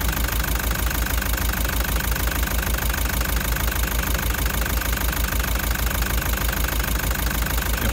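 A car engine with a cracked piston runs at idle, a loud, continuous, even knocking rattle with no voices over it.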